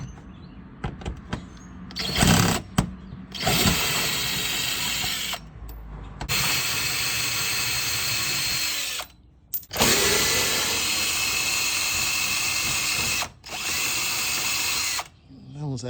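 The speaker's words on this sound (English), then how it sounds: "this drill right here is gonna make this about a 30-minute job" A power drill whirs through several long bursts while removing bolts from the front splitter of a Mustang GT500, loud and close, with brief clicks and pauses between runs.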